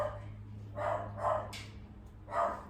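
A dog barks several times in short, spaced yaps over a steady low hum, fairly close.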